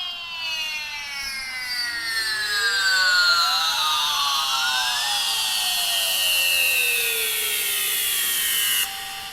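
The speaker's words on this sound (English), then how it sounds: "how to make a build-up sound like this" A synth build-up patch made in Native Instruments Massive, with layered tones sweeping steadily upward in pitch and swelling in brightness for about nine seconds before cutting off abruptly, loud and alone.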